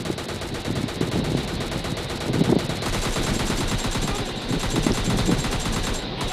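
Gunfire in the video game PUBG Lite rattles in dense, continuous bursts of automatic shots, steady and fairly loud with no talking.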